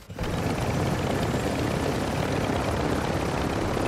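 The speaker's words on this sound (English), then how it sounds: "let's get back in chopper" A helicopter in a shooter video game drones steadily with a dense, loud rotor and engine roar, constant and close throughout with no voices.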